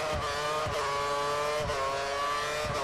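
An F1 car from a 2014 season mod accelerating out of the final corner at Monaco during qualifying, its high-pitched engine whine holding loud and close with a few quick gear-change dips.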